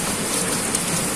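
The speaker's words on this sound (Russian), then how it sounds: "Что, Монька, иди на дождик посмотри." Rain falls outside near a shed as a dense, steady hiss of drops on surfaces, even and fairly loud throughout with no voices.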